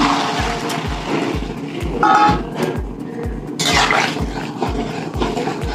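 Water poured into a pan of simmering fish curry gives a short gushing splash, standing out over a steady thumping rhythmic beat in the background.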